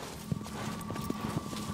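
A horse gallops in the video game Shadow of the Colossus, its hooves making a steady, rhythmic clip-clop of moderately loud, close thuds with no voices over them.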